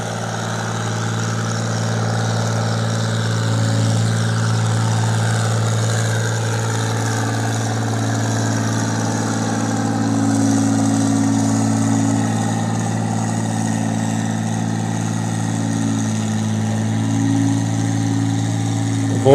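A John Deere 4020 gas tractor with a 360 cubic inch engine runs at a tractor pull, a loud, steady, throbbing low drone with slight swells in revs throughout.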